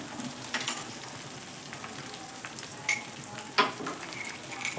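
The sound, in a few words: stirring egg soya chunks fried rice in pan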